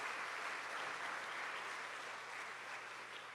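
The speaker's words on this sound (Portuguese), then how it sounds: "Dê uma salva de palmas." A church congregation claps during a sermon in a soft, even wash that sounds distant and quiet. It runs steadily throughout with no voices over it.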